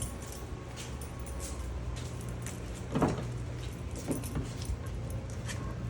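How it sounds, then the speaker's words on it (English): A car door latch clicks open amid soft handling and rustling noises, followed by a couple of lighter clunks. "I like to open up all my doors"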